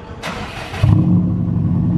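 Car engine running with its muffler removed, a loud low throaty rumble kicking in partway through and holding steady, with a brief hiss before it.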